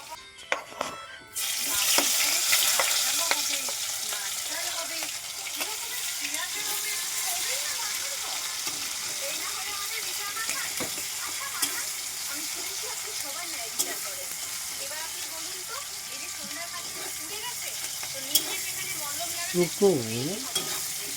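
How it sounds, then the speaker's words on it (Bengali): Potatoes for a chicken curry fry in a pan while being stirred, a steady close sizzle with scraping stirs and occasional clatter running throughout, with faint talk in the background. "আলুটা ভেজে নেব, তারপরে মশলা দিয়ে মাংসটা কষিয়ে নেব"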